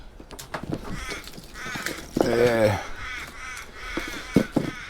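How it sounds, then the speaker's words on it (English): A family of crows caws repeatedly, one loud harsh call near the middle and shorter caws around it, over faint background noise and intermittent talk. "family of crows"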